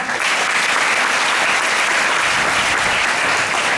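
Sustained, dense applause from a large audience at a TED talk, loud and continuous throughout, honoring a 9-year-old girl who teaches 50 children.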